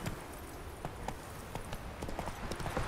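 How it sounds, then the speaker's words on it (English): Horse hooves clip-clop at a steady walking pace on the ground in The Witcher video game, moderately loud and continuous, with faint background game sounds. "Whoa there, Roach."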